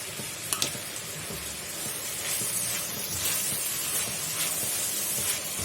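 Food frying in a hot pan with black pepper and salt gives a loud, continuous sizzle and hiss, with soft scraping as it is stirred and turned.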